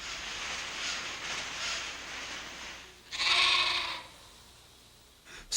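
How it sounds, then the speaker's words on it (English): Sheep bleating on open Scottish grazing land, a few calls rising over steady outdoor ambience, with one loud bleat standing out near the end, fairly close and with no talking. "Scotland is one vast grazing ground for sheep."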